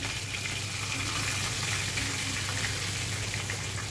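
Curry leaves, methi seeds and hing tempering in hot oil while making Marathi dal vange, a steady close broadband sizzle and crackle running evenly throughout with no voices.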